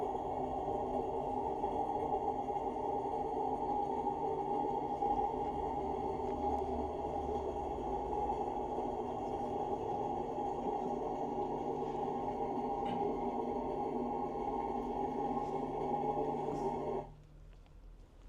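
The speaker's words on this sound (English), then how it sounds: "that's the sound of Trondheimsfjord." Underwater recording of Trondheimsfjord at night: a continuous low droning hum of boat noise with layered steady tones, fairly quiet, ending abruptly near the close.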